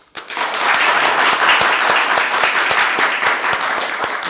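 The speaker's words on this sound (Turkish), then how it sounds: "Alkış." Audience applause fills a community event hall at a village association gathering, a dense, loud wash of many hands clapping that starts abruptly and holds steady throughout, with a few sharper individual claps standing out.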